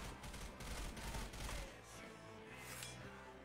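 Repeated shotgun blasts and gunfire in the zombie shooter game Left 4 Dead 2, a loud burst of booming shots up front that gives way to quieter game noise.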